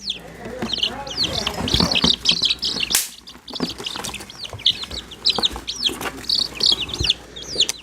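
A Rhode Island Red hen kept among backyard chickens clucks and squawks in repeated, fairly loud, close calls. Softer chirps come from other birds, with a person talking quietly underneath.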